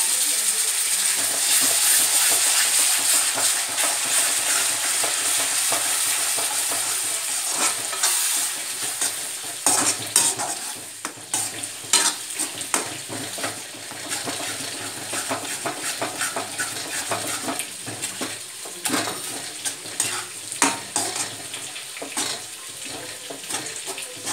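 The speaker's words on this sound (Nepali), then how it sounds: "त्यसलाई हालेर एकछिन मजाले चलाएर एकछिनसम्म चाहिँ राम्रोसँग पाक्न दिनुहोस् त" Tomato puree fries in a pan of fish curry base with mustard spices and is stirred. A steady, loud sizzle fills the first half, then it is broken by repeated scraping and clattering stirs over a softer hiss.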